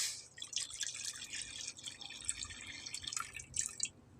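Water poured into a karai pan for cooking gives faint splashing and dripping trickles, soft and close, with no voices.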